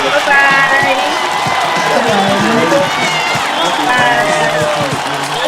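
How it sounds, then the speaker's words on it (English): A crowd at a commencement ceremony for 2020 graduates of the Geneva Learning Foundation claps and cheers in a steady, dense wash of noise, with voices and whoops mixed in throughout. "If you're still here, let's hear some clapping."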